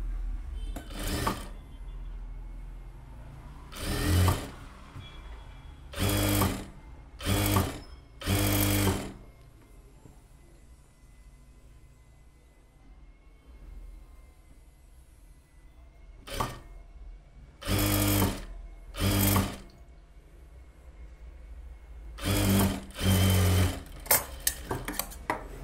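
A sewing machine stitching the band onto a 40-inch blouse, in repeated loud bursts of running stitches separated by quiet pauses.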